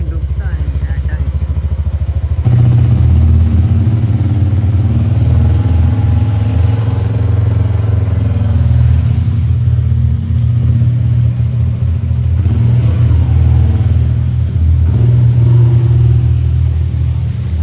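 A motorcycle rides through water inside a cave, giving a loud, steady low engine rumble with sloshing and clatter that carries on without pause. The engine noise swells after a short quieter start.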